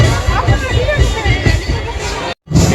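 Dense crowd babble at an outdoor fair in Chandil, Jharkhand, a steady loud hubbub of many overlapping voices close by, broken by a brief cut near the end.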